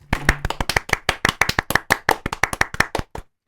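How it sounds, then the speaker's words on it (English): A burst of close, crisp clapping, rapid and fairly even, carries on for about three seconds before stopping abruptly. "we're going to give another round of applause, Mr. John Carpenter and Mr. Nick Castle"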